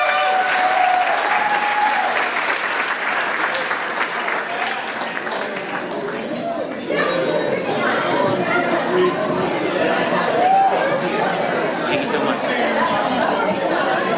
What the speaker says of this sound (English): We need another round of applause, everybody.